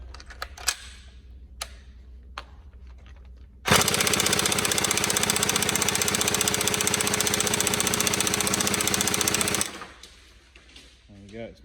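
A TM AK47 Type 3 airsoft gun with a stock piston fires on full auto in one loud, sustained burst of about six seconds. Faint handling clicks come before and after it.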